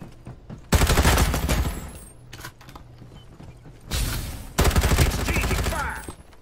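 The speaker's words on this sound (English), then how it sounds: "Exchanging fire!" Two loud bursts of rapid automatic gunfire from a firefight in the shooter game Farlight 84, each lasting a few seconds and broken by a short gap of clicks and softer shots, with a voice speaking briefly.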